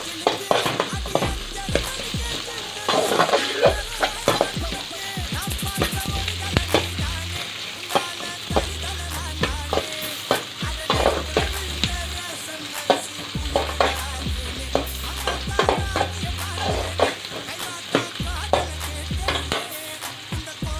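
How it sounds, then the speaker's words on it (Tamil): Onions frying in a pan until golden brown, a continuous close sizzle broken by frequent sharp spatula scrapes and knocks against the pan, loud and busy throughout. "பெரிய வெங்காயம் நல்லா வதங்கிருச்சுங்க."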